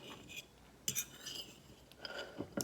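Fork cutting through chicken fried steak with gravy on a plate, a few faint scattered clinks and scrapes of metal on the dish with quiet gaps between them.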